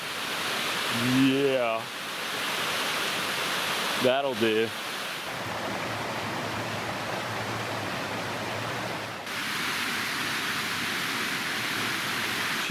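A wilderness waterfall in the Cranberry Wilderness rushes as a steady, broadband roar that fills the whole clip, with brief talk near the start over the constant water noise.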